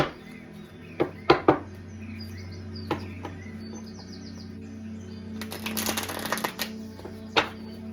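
Tarot cards are shuffled in quick riffling bursts, with a few sharp taps between them and a longer rustling riffle near the end, close and fairly loud.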